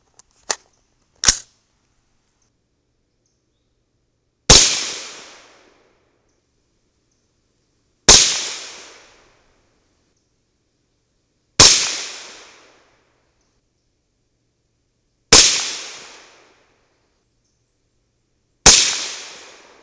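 Seven sharp, loud rifle shots from a 300 BLK rifle with a CMMG 8-inch barrel firing 125-grain Hornady SST loads, spaced a few seconds apart, each with a short decaying echo on an outdoor range.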